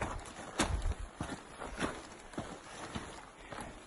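Squelching footsteps in boots filled with water during a long rainy hike, a quiet irregular series of soft wet thuds at close range with no talk.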